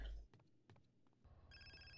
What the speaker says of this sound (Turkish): Oyunu kaydettik, çıktık ve telefon çaldı.